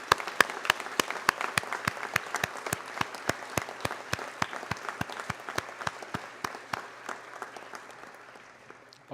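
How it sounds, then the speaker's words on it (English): A graduation ceremony audience claps steadily for several seconds, the sharp, evenly spaced claps sounding fairly distant and gradually thinning toward the end. "Can we all applaud each other for the great accomplishment that we've done?"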